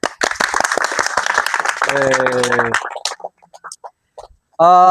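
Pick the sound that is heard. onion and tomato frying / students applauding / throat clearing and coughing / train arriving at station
students applauding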